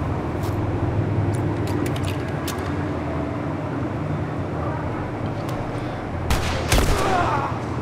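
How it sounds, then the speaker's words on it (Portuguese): Gunfire in The Last of Us video game: several sharp gunshot cracks scattered over a steady background rumble, with a louder burst of shots toward the end, no talk. "Tiro certeiro, headshot na cara."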